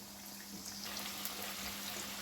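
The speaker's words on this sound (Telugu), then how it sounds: "నూనె వేడైంది. కాకరకాయ ముక్కలు వేసుకోవాలి." Bitter gourd pieces dropped into hot oil set off a steady, dense sizzle that brightens and grows louder partway through, continuous and close.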